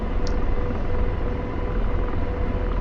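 An AH-64 Apache helicopter turns a 360 around a follow-me vehicle, its engine and rotors producing a steady, heavy low rumble with a faint high whine on top.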